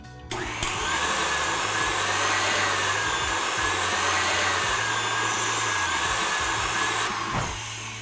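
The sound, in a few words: electric mixer whisking egg whites to stiff peaks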